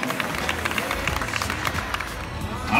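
Audience applause at a rally awards ceremony: dense, steady clapping from a crowd with background hubbub, and a voice speaking over it.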